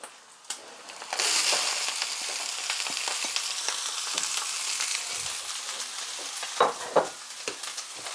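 Cabbage hits a hot frying pan where other vegetables have browned, setting off a loud, steady sizzle with stirring scrapes and a few sharper crackles near the end.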